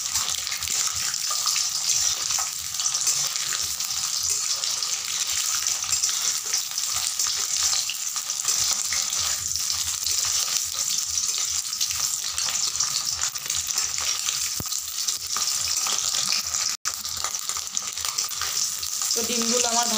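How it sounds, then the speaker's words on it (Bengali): Eggs fry in oil in a pan and are stirred, producing a steady, loud sizzle throughout with occasional scraping from the stirring. "আমি ডিমগুলোকে নাড়া দিয়ে দিয়ে ভেজে নিব"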